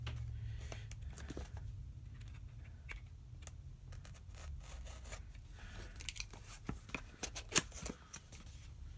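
Blade cutting open the product packaging of a DJI Osmo Pocket 3 gimbal camera bundle, a steady close scraping and rasping with crackly bursts toward the end.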